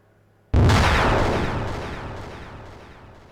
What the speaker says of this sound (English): Honestly, that sounds more like an explosion than the elevator crashing.